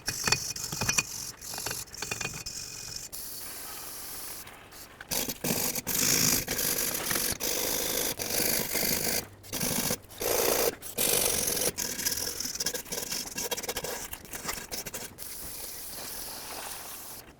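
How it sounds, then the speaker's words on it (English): A wire brush scrubbing rust off the rear brake hub of a 2007 Chevy Silverado Classic, loud rapid harsh scraping in long bursts with brief pauses between strokes. "So I'm going to take a wire brush"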